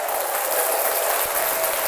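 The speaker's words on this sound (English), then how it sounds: "So I hope that applause went through." Steady applause sound effect, a dense, even wash of many clapping hands lasting a couple of seconds without any voices.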